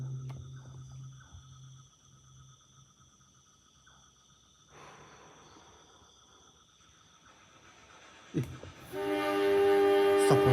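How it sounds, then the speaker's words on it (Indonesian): A train approaching through a railway tunnel: a faint distant rumble with high tonal whine builds slowly, then surges into a loud, steady roar and screech of wheels as it arrives close by. "Suara kereta api lur."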